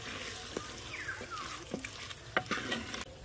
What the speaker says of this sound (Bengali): চিকেনটা খুব ভালো করে কষে নেব।